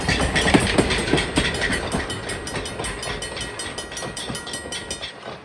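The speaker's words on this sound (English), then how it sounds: "And they say that the whistle is a New Haven-style passenger whistle." A Mikado 2-8-2 steam locomotive built to resemble a New Haven Railroad engine rolls past with a rhythmic clatter of wheels and rail joints, loud and close, while a steady high whistle tone runs underneath.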